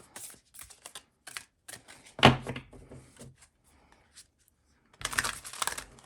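A deck of tarot cards is shuffled in quick riffling bursts with light tapping and a sharp snap. A longer ruffle follows after a pause. The sound is close and there is no talking.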